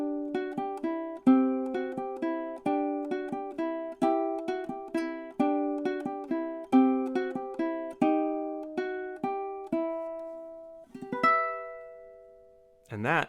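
Ukulele plays the closing section of a Carol of the Bells and God Rest Ye Merry Gentlemen medley, with rapid plucked repeating notes and clear melody, then slower ringing notes and a final strummed chord, solo and close.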